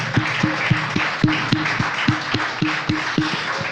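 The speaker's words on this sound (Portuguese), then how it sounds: "Uma salva de palmas para Jesus." A church congregation at a service claps in a steady, even rhythm, with sharp, fairly close hand claps over a low murmur of room noise.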